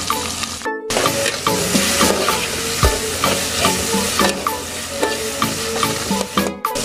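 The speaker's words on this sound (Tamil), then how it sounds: "அப்போ வந்து வெங்காயம் பச்சை மிளகாய் போட்டுருங்க." Sliced onions and green chillies frying in a pan with oil for a Tamil prawn curry, a steady loud sizzle with repeated scraping stirs and clinks of a spoon, no voices.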